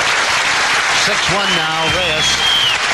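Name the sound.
crowd applause at pool match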